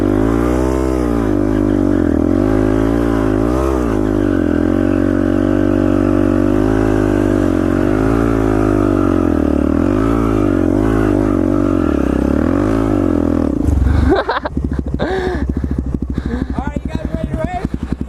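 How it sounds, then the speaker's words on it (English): A two-stroke dirt bike and a Yamaha R3 sport bike race side by side, their engines droning loudly with wavering pitch as they accelerate, then a sharp cutoff into rougher, choppy engine rattle near the end. "Two-stroke versus an R3 sport bike."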